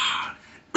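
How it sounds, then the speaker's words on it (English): A single short cough, sharp and close, bursting out at the very end after a brief throat-clearing rasp. "See, that shit made me cough."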